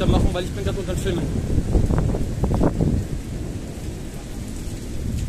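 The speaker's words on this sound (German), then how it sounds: "Dauerdonnern mittlerweile." Loud thunderstorm over Ingolstadt with near-continuous rumbling thunder layered over steady heavy rain, broadband and dense throughout with no quiet gaps.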